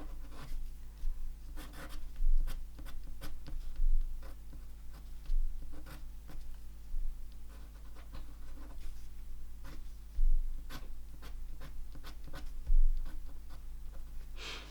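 A pen drawing lines on watercolour paper, a close series of soft scratchy strokes and short scribbles in an irregular rhythm, with faint tapping between them and a steady low hum underneath.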